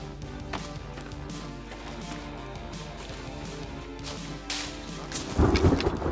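Thunder from a thunderstorm in a video game, a steady rumbling wash that swells into a louder, crackling burst near the end, with no talking over it.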